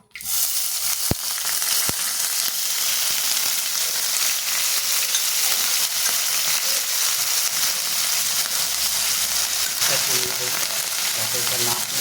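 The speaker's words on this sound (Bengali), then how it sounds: "আমি তোমার আগেই পেঁয়াজ রসুন আদা বেটে রেখে দিয়েছিলাম সেটা ফোড়ন দেবো" Onion, garlic and ginger paste sizzles loudly and steadily in hot oil in a pan, with a couple of sharp clinks near the start and a spoon stirring later on.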